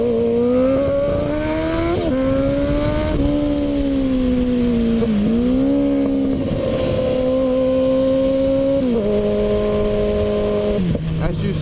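A 2016 Kawasaki ZX14 motorcycle roars loud and close under hard acceleration, its engine pitch climbing through repeated gear changes with brief dips between shifts, over steady wind rush.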